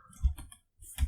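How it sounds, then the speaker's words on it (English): A couple of short clusters of computer keyboard clicks, close and distinct, as keys are pressed to copy and paste. "Now I can just copy and paste this because I hate typing that."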